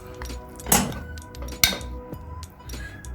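Chicken and paneer are stirred with pepper and masala in a dish before grilling, making a few sharp clinks and scrapes of a utensil against the dish between quieter handling noise.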